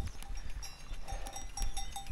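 Cowbells on cows in a Jura pasture ring faintly and irregularly, with light scattered clanks over a low rumble of outdoor background noise and no talk.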